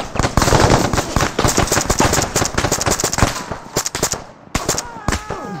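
Rapid bursts of automatic gunfire and single shots crack loudly in ArmA 3 squad combat, dense volleys then sparser shots with brief pauses, a voice speaking briefly among them.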